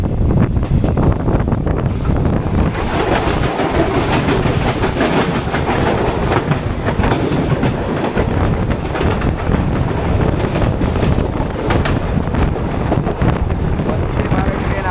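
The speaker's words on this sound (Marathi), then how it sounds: "आत्ताच आपल्याला क्रॉस होते वंदे भारत ट्रेन" A Vande Bharat train passing close by: a loud, continuous roar of rushing wheels and air with rattling clatter and heavy wind buffeting throughout, steady in level from start to end.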